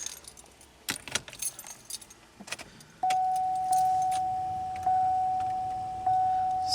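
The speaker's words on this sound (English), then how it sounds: "Let me get the keys." Aftermarket car keys jangling up close in a few rattling bursts, then a steady high electronic chime from the car that repeats and keeps sounding.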